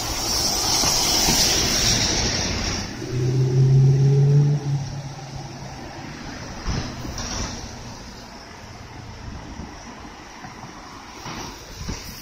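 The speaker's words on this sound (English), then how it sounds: "See how that car crossed over right in front of me?" A car crosses a street in Sydney, Australia, on a warm spring day, its passing heard as a broad rushing swell of traffic noise that rises early and then fades into steady street ambience.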